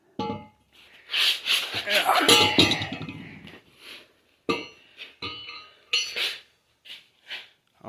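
Metal clinks and clunks as a Dodge 440 big-block crankshaft is flipped over by hand, a run of close knocks and scrapes followed by a few separate taps, with talking mixed in.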